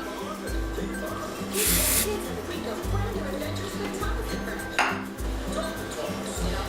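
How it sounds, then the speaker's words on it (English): Two short hissing bursts of aerosol hairspray on loosened curls, the first longer than the second, over a steady low rhythmic background. "I'm just gonna kind of spray it after we've loosened the curls up."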